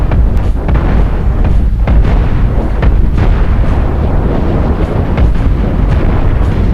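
Spaceship weapons fire pounds a ship's shields and armor in the Cosmoteer space combat game, a loud, continuous roar of overlapping blasts and booms with faint sharper pops throughout.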